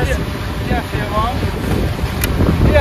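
Strong gusty wind buffets the microphone outdoors where a DJI Mini 3 Pro drone is being flown, a loud continuous rumble with voices talking faintly underneath.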